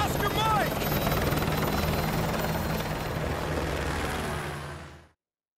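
Helicopter in the Call of Duty Modern Warfare 2 video game, a loud continuous rotor thrum and engine roar that holds steady, then cuts off abruptly near the end.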